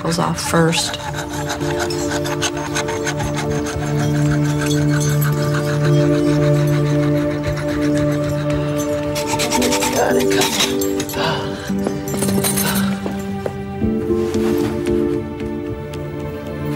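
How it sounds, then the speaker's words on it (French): Metal rasps and scrapes in repeated strokes with ringing clinks as a saw cuts through metal chains during a prison escape, close and loud, with some voices mixed in. "On scie d'abord ses chaînes."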